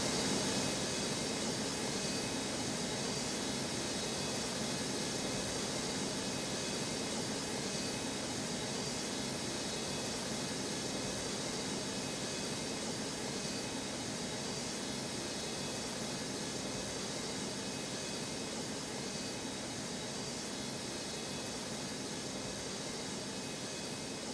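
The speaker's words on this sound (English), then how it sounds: "Cleared for takeoff runway 4 left, Clawjet 11." Jet airliner rolling for takeoff on runway 4 left at Newark, a steady broad roar of engine noise holding at constant loudness throughout, with no voices over it.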